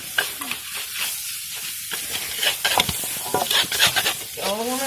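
Food sizzles in a hot pan while being stirred, with scraping strokes and crackling oil close up, busy and continuous throughout.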